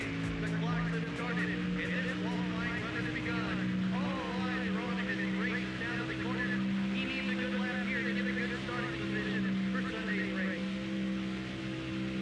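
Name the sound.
race car engine in video game NASCAR Thunder 04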